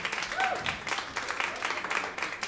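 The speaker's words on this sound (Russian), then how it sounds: "Легендарные аплодисменты." A concert audience breaks into sustained clapping at a live band performance, dense and fairly distant, with a short whistle rising briefly above the applause.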